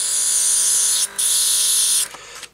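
A cordless airbrush sprays with a bright, steady hiss over a faint motor hum, spitting a little at the start, then cuts out briefly, resumes and stops.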